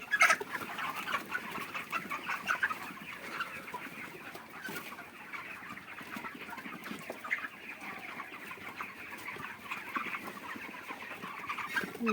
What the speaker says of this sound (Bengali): পাখিটা হালকা একটু সাউন্ড আছে, খিচখিচ করছে